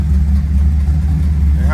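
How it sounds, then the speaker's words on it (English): A swapped 1979 Chevrolet Malibu LS rumbles steadily through its exhaust, a deep, loud, constant engine drone with no clear revving. "Just listen to the motor and how good it sounds through the exhaust."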